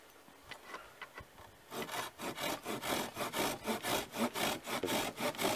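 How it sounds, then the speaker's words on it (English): A hand saw cuts through wood in a steady run of about a dozen strong back-and-forth strokes, near and loud, after a few lighter starting scrapes. "I think you should saw it there and give it a couple of saws"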